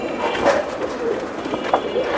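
A Bezi pigeon coos in soft low repeated phrases, close by, with steady background noise and no talk.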